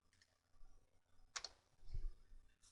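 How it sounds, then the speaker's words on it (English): A single keystroke on a computer keyboard, the Enter key pressed while working in a Microsoft Excel 2007 spreadsheet, gives one short, quiet click in an otherwise hushed room with faint low background noise. "If I hit enter on my keyboard"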